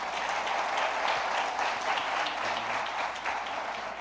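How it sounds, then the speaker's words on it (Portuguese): A church congregation applauds during a worship service, with sustained, even clapping from a large crowd filling the whole stretch at moderate loudness. "Você pode aplaudir Jesus?"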